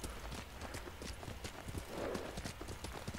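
Horse hooves clip-clop at a steady walking rhythm in Ghost of Tsushima, close and fairly loud, with a brief snort partway through and no talk.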